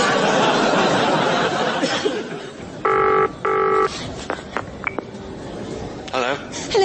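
An old-style telephone rings in two clear double bursts on a comedy audio drama, with chuckling and voices before and after the rings.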